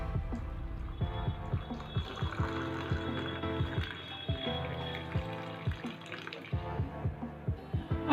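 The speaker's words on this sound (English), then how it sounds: "here I'm adding the hot water." Hot water poured onto coffee powder for South Indian filter coffee, a quiet close trickle and splash running through with light clinks and drips.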